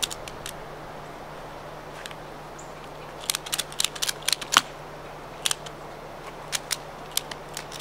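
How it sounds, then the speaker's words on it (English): A predator trap ratcheted closed, heard as sharp, close metallic clicks in short irregular bursts, loudest in a cluster mid-way, over a quiet outdoor background. "So let me ratchet it closed."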